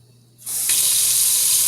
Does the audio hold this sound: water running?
yes